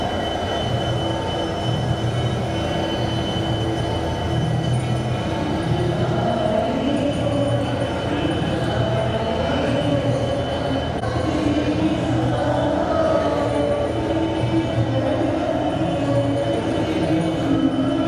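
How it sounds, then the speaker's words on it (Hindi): A train pulls out of a station in Mewar during an event attended by India's Railway Minister Ashwini Vaishnaw. A loud, continuous rumble of rolling railway cars carries metallic wheel squeals and faint clickety-clack, with no talking. "ये देखिए रेल जाने वाली है"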